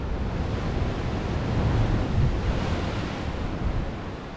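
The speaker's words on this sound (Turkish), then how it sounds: "Aşağıda gördüğünüz gibi bir çukur var ve denizin dalgalarının sesini duyabiliyor musunuz?" Sea waves surging into a coastal pit along the Lycian Way, a broad, steady roar that swells and eases gently, mixed with wind buffeting the microphone, with no voices.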